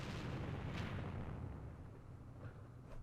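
Mortar rounds landing in the Campaign Series Vietnam war game, set in the Battle of Dak To, as a dense rolling rumble of distant explosions that fades slightly over a few seconds.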